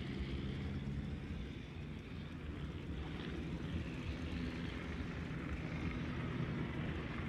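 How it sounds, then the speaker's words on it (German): Aircraft drone steadily overhead in the naval video game World of Warships, a continuous broad engine roar that stays constant and fairly loud throughout without a clear approach or fade. "Ach man, diese blöden Flugzeuge."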